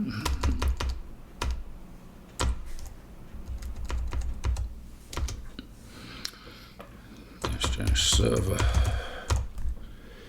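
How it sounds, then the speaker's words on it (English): Quick bursts of typing clatter on a computer keyboard, with short pauses between runs of keystrokes and a busier stretch near the end; someone speaks briefly over the clicking. "now I've typed it correctly"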